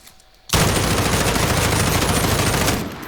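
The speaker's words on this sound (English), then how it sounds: "If I am to just fire the gun normally like this," M4A1 assault rifle in Call of Duty Warzone firing one long unbroken automatic burst, loud and close, starting abruptly after a short quiet moment and running for about two and a half seconds.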